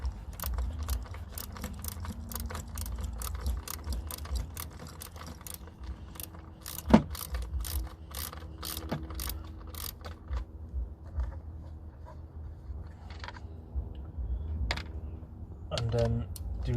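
A ratchet loosens the 10mm rocker cover bolts on a Honda EP3 Civic Type R, making rapid rows of close metallic clicks in bursts with brief pauses and one sharper clank.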